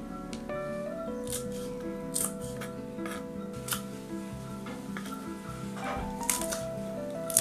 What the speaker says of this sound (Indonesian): cabai rawit sesuai selera, iris potong-potong serong memanjang, lakukan hingga habis lalu sisihkan.